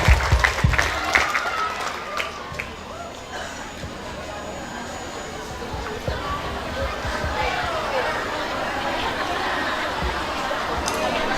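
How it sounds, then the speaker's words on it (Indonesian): A crowd claps in a burst of applause for a class performance at an elementary school graduation farewell ceremony, settling into steady, dense clapping mixed with chatter and murmuring voices in a large room. "Sekali lagi kita berikan tepuk tangan untuk penampilan kelas 3."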